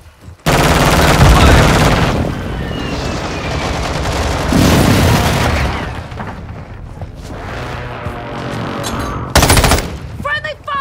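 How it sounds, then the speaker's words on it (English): Heavy Call of Duty combat: loud bursts of rapid machine-gun fire and gunshots, broken by booming airstrike explosions, with a sharp blast near the end. Some faint voice sits under the din. "Friendly airstrike on the way."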